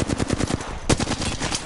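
Rapid automatic gunfire from the video game Apex Legends rattles in a fast, steady burst of loud close shots, with one sharper crack partway through and no speech.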